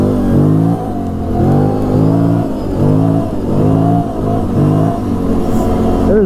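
A Can-Am Renegade 800 ATV engine revs loud and close, climbing through repeated rising pitch sweeps as it accelerates and shifts, droning strongly throughout.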